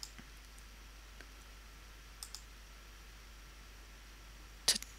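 Computer mouse clicks in a quiet room: a few faint, sparse ticks, then one sharper, louder click near the end, with no voices.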